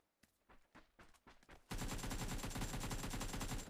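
Gunfire in the mobile battle royale PUBG: New State: a few sparse shots at first, then a loud, sustained burst of rapid automatic fire that runs without pause to the end.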